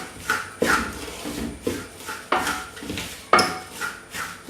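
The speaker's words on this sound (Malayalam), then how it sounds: "ഞാൻ കുറേ സമയമായി ഈ അവലോസ് പൊടിക്ക് ഇത് ഇളക്കിക്കൊണ്ടേയിരിക്കുന്നു" A utensil stirring and scraping Avalose rice powder in a pan, with repeated sharp metallic scrapes and clinks at an uneven rhythm, close and fairly loud, with no talk.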